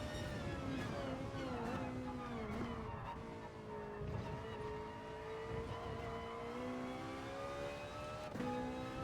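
A Ferrari 458 GT4 race car engine roars in Gran Turismo Sport at Monza, pitch climbing and dropping through gear changes with brief tire skids, steady and close, no talking.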